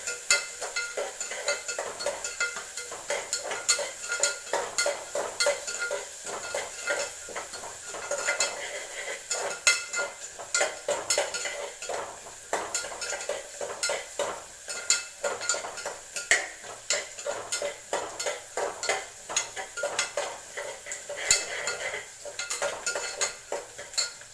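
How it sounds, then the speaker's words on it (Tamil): Onions being sautéed in a pan, stirred constantly with a metal spoon that scrapes and clinks rhythmically against the vessel over a soft background sizzle, close and unbroken, without any talking. "நல்லா வதங்குங்க. அதாவது ப்ரௌன் கலரில் வரும். அதான் வாசமாக இருக்கும் வெங்காயம்."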